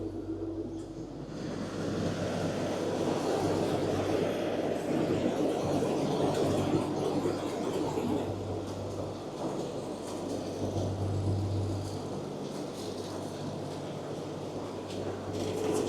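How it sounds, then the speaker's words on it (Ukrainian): A Dronningborg D7000 combine harvester runs with its threshing drum started, a continuous loud rumbling roar with broad noisy texture and a low steady drone, heard throughout without speech. "Зараз запустимо лотарку, тут запускається вже все з кнопок. Пускаємо лотарку. Лотарка пішла."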